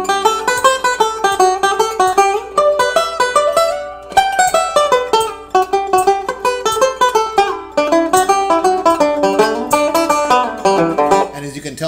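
Banjo playing a scale run with sliding notes, fast plucked notes rising and falling in a continuous bright stream, close and steady for about twelve seconds.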